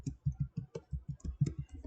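Computer keyboard keys clicked in a quick, irregular run of soft taps at close range while entering code in a Small Basic programming window, with no talking over it.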